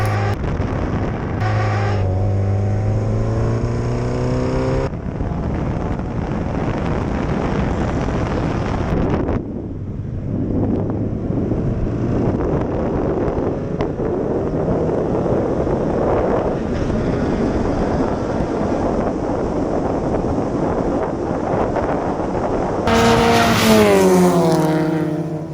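A race car's engine revs hard and climbs through gears coming out of corner 10 onto the straight, loud and close with heavy wind buffeting, rising pitch sweeps repeating across the run, and a sharp high-revving surge near the end.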